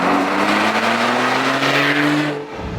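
A 2016 Porsche 911 Carrera S with a loud sport exhaust sends out a strong, close engine note that climbs steadily in pitch, then drops away sharply near the end. No voices are heard.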